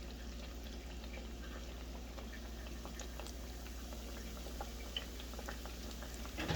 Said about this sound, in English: We're going to keep our temperature at around a medium high, and we're just going to enjoy the fry time.